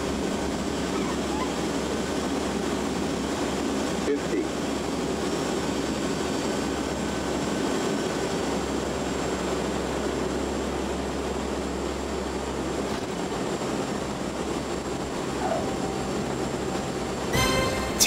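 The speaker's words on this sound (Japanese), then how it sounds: "それでは厚木航空基地の滑走路に着陸します。" A Japanese navy patrol aircraft lands on the Atsugi air base runway, heard from inside as a steady, loud engine drone with low rumble and occasional cabin knocks throughout.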